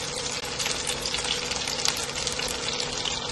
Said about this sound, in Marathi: उरलेल्या पण स्टिक मी आता हे रोस्ट करून घेत आहे.